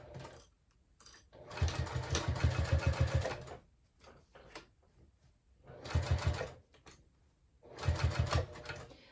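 A sewing machine fitted with a size 16 needle stitches through thick layers of a fabric clutch wristlet, running in three rapid buzzing bursts with quiet pauses and faint handling noises between them, close and fairly loud.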